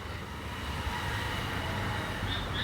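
A moving train heard from inside a carriage: a steady, moderately quiet low rumble and rattle of wheels on track runs throughout, with a couple of brief higher squeals near the end and no talking.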